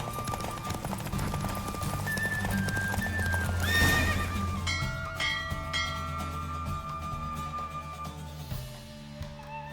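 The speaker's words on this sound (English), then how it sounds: "Don't spare the horse!" A horse in The Witcher 3 video game gallops with rapid clip-clopping hooves, then gives a loud whinny midway as the hoofbeats fade into a quieter stretch.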